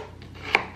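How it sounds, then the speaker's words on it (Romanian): A single crisp knife chop on a cutting board, a washed onion being cut finely for a home-cooked Romanian stew, one sharp near strike against a quiet background. "am spălat și ceapa asta și o să o tai mărunt"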